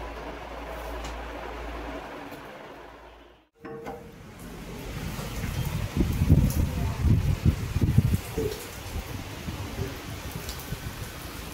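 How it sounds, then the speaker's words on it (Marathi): Steady rain during a monsoon-like spell at a home in India falls continuously, a dense hiss that briefly cuts out then returns, growing heavier with patters and drips on surfaces nearby. "गेले 3 दिवस सारखा पाऊस पडतोय."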